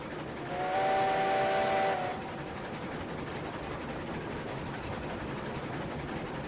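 Steam train in the Railroads Online video game: a whistle blows for about a second over continuous rumbling and chugging that carries on steadily afterward, with no talk.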